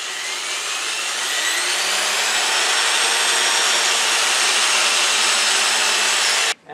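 A power sander works a wood-turned clamshell box through successive grits, giving a continuous, steady whirring hiss with abrasive rubbing, close and loud, cutting off abruptly at the end.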